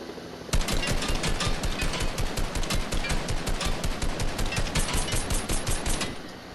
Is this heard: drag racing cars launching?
no